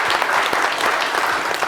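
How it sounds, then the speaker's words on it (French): A studio audience on a live show applauds the artists Ansty and Prince: a thick, continuous wash of many clapping hands, loud and sustained throughout. "d'applaudir"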